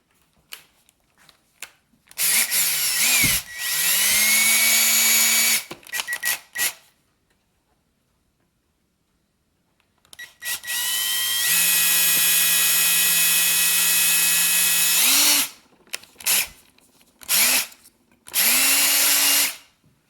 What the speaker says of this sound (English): And I'm going to start with a small drill bit.